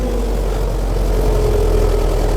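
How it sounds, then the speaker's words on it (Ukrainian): An MTZ tractor engine, fitted with a pneumatic rear differential lock, runs steadily at a low, even idle. It sits close and loud, with a constant heavy rumble throughout and no voices. "досить мучити трактор та будемо вже орати так, як потрібно"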